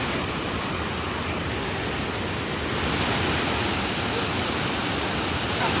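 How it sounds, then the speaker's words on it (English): Cold storm runoff rushes everywhere around someone standing in it on a Tasmanian jeep track, a dense, steady roar of flowing water that swells louder partway through and fills the whole scene. "All this water flowing down everywhere"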